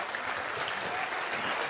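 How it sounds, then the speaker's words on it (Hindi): A crowd at a political rally on a village cricket ground claps for Prashant Kishor's arrival, with fairly distant, steady applause from many hands over a brief stretch. "जोरदार ताली बजाइए आप"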